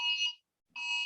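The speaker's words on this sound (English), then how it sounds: "That was my phone telling us we have a flash flood warning around here." Phone emergency alert for a flash flood warning: two loud, steady multi-tone alarm bursts, each about 0.4 s, with a short gap of silence between them and no one talking.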